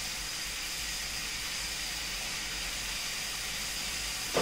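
Mutton and lentils frying on a low flame for dal gosht give off a steady, even sizzling hiss that holds unbroken throughout, moderately quiet and close, with no voices.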